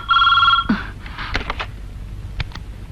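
A telephone rings once with a bright electronic trill, followed by a few clicks and knocks nearby.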